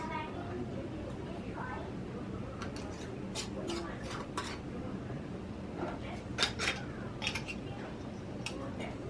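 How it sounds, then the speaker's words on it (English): Metal lids being screwed onto glass canning jars of homemade strawberry jam, a series of light clicks and scrapes scattered over a steady background hum, with several sharper clinks near the end. "now I'm going to put all the lids on to fingertip"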